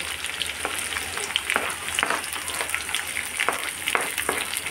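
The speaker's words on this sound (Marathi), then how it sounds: "कांदा पण मस्त गुलाबी फ्राय करून घ्यायचा डाळीचं" Onion and garlic fry in a pan for a dhaba-style dish, giving a steady close sizzle dotted with sharp crackles and pops throughout, with no talking.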